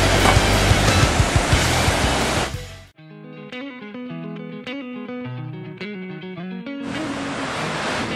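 Ocean waves break on a Kauai beach in a loud, full, hissing wash of surf that drops out for a few seconds while melodic music plays alone, then the surf returns.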